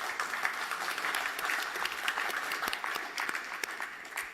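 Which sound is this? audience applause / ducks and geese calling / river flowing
audience applause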